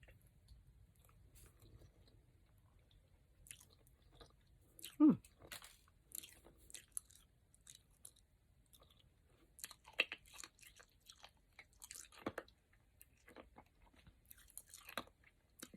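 Someone chews crunchy grape candy while wearing snap-in dentures, producing sharp, close crunches and clicks in irregular bursts against a quiet background, with one louder bite near the start of the chewing.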